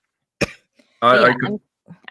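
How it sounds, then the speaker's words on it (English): A person coughs after water went down the wrong pipe: one sharp cough, then a rough, strained throat-clearing burst, close and loud, with brief faint noise after. "I'm the one coughing. Got water down the wrong pipe."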